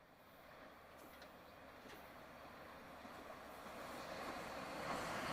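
A Toronto TTC T1 subway train pulling into Victoria Park Station, heard from inside the operating cab as a steady, broadband rolling rumble that slowly grows louder, with no talking.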